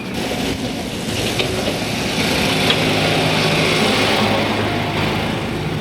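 A tractor engine drives nearby, a steady mid-pitched mechanical drone with a light rattle that swells slightly louder midway and stays close throughout.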